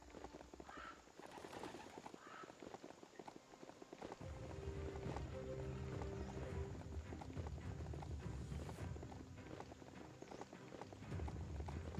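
Hoofbeats of a riding mount in Biomutant, a steady galloping clip-clop running close and loud for several seconds, with faint birdsong in the background.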